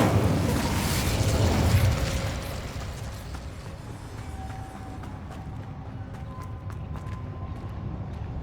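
The Incendio fire spell is cast in Hogwarts Legacy, played on PS5. A loud, roaring burst of flame opens and then fades into a steady rushing hiss, with small crackles and pops over it.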